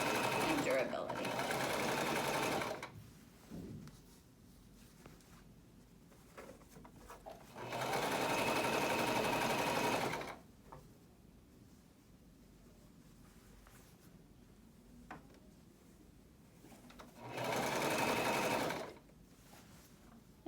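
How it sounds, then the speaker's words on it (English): A sewing machine stitches a fabric PPE gown in three steady bursts of fast, even whirring, with quiet pauses and light handling noises between runs while a person speaks softly. "we'll just make another stitch just to give it a little extra strength and durability"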